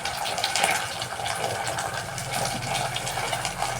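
Water poured into a dish of sardines, a steady splashing fill with a continuous watery rush running the whole time, close and fairly even in level.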